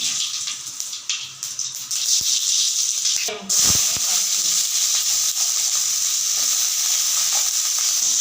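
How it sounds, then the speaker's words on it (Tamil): Small shallot-type onions sautéing in a pan give a steady, bright frying sizzle throughout, with a brief clatter partway as the contents are stirred. "சின்ன வெங்காயம் நல்லா வதங்குது"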